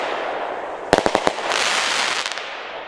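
Biedronka Galaxy New Year's fireworks set going off outdoors: a quick string of five sharp cracking bangs, then a hissing burst and a few fainter crackles fading out.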